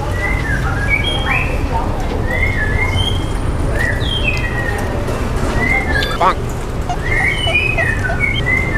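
Birds call repeatedly with bright whistled and warbling notes over a steady background noise of rain, with people talking faintly beneath at a roadside food stall under a railway line.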